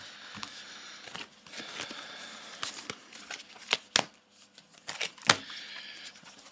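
Tarot cards are shuffled in quick, papery riffles and flicks, close up, with several sharp snapping bursts.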